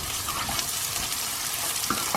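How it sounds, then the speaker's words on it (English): Freshly crushed ginger and garlic fry with lightly caramelized onions in a pan, a dense, loud, continuous sizzle with faint stirring, no talk. "My ginger and garlic go in next, and I've used freshly crushed ginger and garlic."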